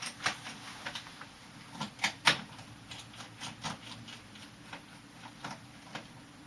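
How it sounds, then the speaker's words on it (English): Small screws being unscrewed from the screen assembly of a Lenovo G470 laptop, heard as faint, scattered ticks and light clicks at close range with no talking. "Next, we're going to remove the two screws underneath."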